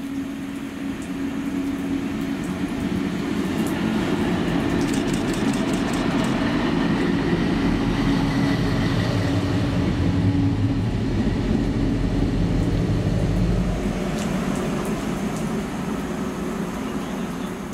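GBRF class 60 diesel locomotive 60021 passes through Polmont in Scotland, a loud, close, sustained diesel rumble with clattering wagons and faint wheel squeals, easing off near the end.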